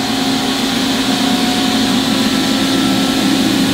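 A 1995 Toyoda 4-axis CNC horizontal machining center with CAT 40 spindle and 450mm pallets runs its spindle at 500 RPM, giving a steady, even machine hum with a low tonal drone that holds constant throughout, with no talking.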